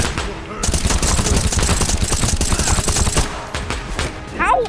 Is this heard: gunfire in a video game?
yes